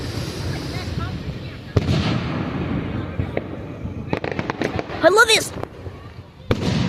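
Fireworks show in Sonic Adventure: a string of sharp bangs and crackling bursts with whistling rises, loud and close over a rumbling background, while a person talks briefly.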